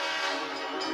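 A train horn sound effect blares for a hype train during a live stream, one sustained loud tonal blast with a faint rumble and no voices.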